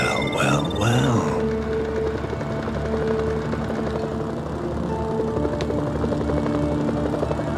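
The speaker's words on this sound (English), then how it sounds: "Don't crash my helicopter!" A helicopter in the video game Mercenaries thrums with a steady rotor drone, and a voice exclaims loudly at the start.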